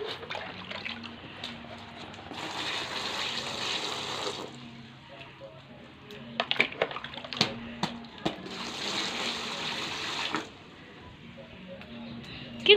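Water poured over a child during a bath, two broad splashing bursts of pouring rising and falling amid small splashes and clatter, with a voice heard faintly in the background.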